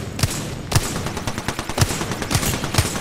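Automatic gunfire in the shooter Apex Legends, a loud, steady rattle of shots with sharp punchy reports landing roughly every half second, close up with almost no talk.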